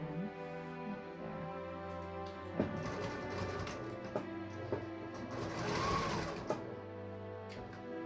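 A sewing machine stitches binding around a quilt with a continuous close whirring hum and a few light mechanical clicks and taps, running steadily alone without talk.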